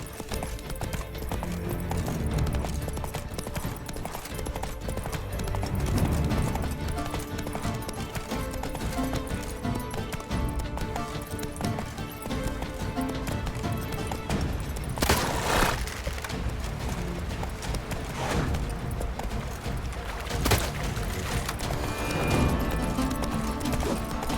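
The horse Roach trotting in The Witcher 3 game, Blood and Wine expansion: steady, close clip-clop of hooves in an even rhythm, with occasional louder scuffs and clatter over ambient noise.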